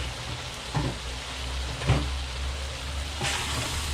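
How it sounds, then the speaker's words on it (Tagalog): Eggplant, okra and string beans fry in a pan for pinakbet, giving a steady broadband sizzle with a few soft stirring scrapes, close and continuous, with no talking. "isasabay ko na yung okra at saka yung sitaw"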